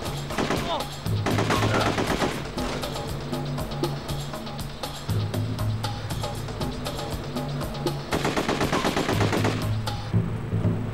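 Rapid bursts of gunfire in The Getaway video game fire in repeated volleys, loud and close, with machine-gun rattles and engine rumble beneath, while players talk over the action.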